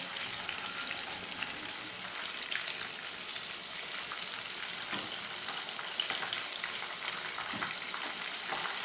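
Chicken kebab pieces frying crisp in hot oil, a dense, steady crackling sizzle with scattered pops throughout, close and loud with no talking.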